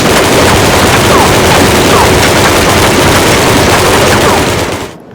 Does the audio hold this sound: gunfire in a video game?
yes